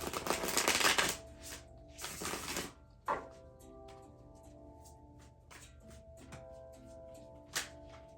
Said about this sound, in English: So now we will shuffle the cards and see what messages we have for the week.